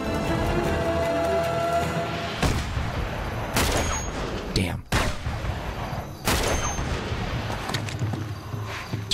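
Heavy gunshots from a sniper rifle in the video game Uncharted 2, several loud sharp cracks spaced a few seconds apart over a steady bed of in-game ambience and rumble.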